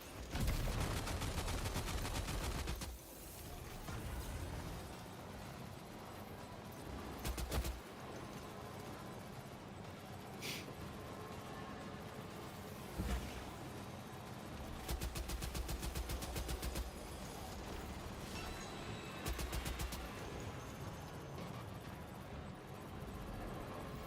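Guns fire in the video game Death Stranding 2 as several quick automatic bursts and single cracks over a steady, fairly quiet background hum.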